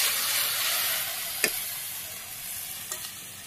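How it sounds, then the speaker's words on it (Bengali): Green chillies frying in oil with turmeric and chilli powder, a steady soft sizzle with two brief sharp clicks of stirring, close and without talk. "আর এই 2 ফালি কাঁচামরিচ নেড়ে ছেড়ে ভেজে নিয়ে"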